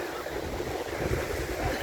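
Sea waves on a Baltic beach on the German coast near Poland, a continuous broad wash of surf mixed with wind rumble on the microphone, fairly loud and unbroken.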